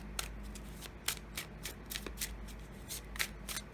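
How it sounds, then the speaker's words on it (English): A deck of tarot cards from the US Games Systems line, thick with a springy feel, gets shuffled by hand. Soft, irregular riffling flutters and taps sound close and faint, with no voices. "Let's try to shuffle them this way just once."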